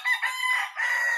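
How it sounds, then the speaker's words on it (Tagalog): A talisayin gamecock crows once, a short, thin, high-pitched call heard up close and alone. "kasi napakagandang tilaok nito mga hunter"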